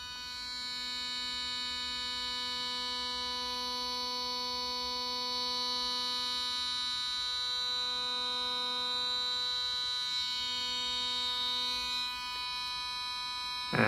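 An Oclean X Pro electric toothbrush vibrating during brushing gives a steady, close electric buzz with a strong tonal hum that stays constant throughout.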